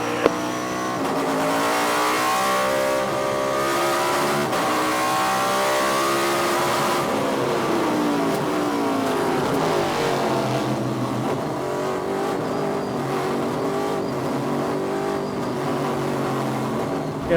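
Race cars accelerate together off a green flag start at Lime Rock, a dense layered roar of engines climbing and shifting, loud and continuous with overlapping revs and no voices.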